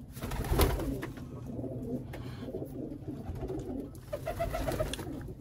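Pigeons cooing inside a loft, soft low repeated coos and murmurs from several birds close by, with light rustling and no voices.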